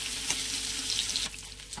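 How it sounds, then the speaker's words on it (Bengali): Amul paneer frying in a kadai, a steady close sizzle running throughout with a soft stir or clink near the start, the hiss easing slightly toward the end. "পনিরটা সুন্দর ভাজা হয়ে গেছে"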